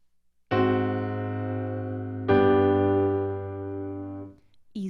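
Two sustained chords, likely piano, a voice-leading example of an augmented sixth chord resolving to the dominant, the second entering at about 2.3 seconds and both ringing clearly with no talking.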